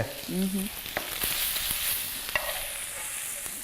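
Bacon sizzles in a frying pan for an English breakfast, a steady close crackle broken by a few sharp taps and utensil clicks, without speech.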